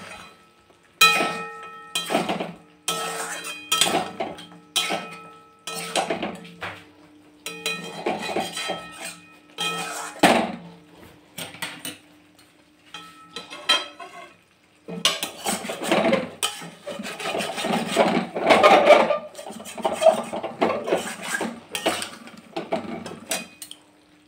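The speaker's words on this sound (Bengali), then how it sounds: "তো চলুন এবার বেরেস্তাটা চিকেনের সঙ্গে মিশিয়ে নিই।" A utensil stirs fried onion paste into chicken in a pot, with repeated close scraping and clinking strokes that are sometimes spaced apart and sometimes run together into a continuous clatter.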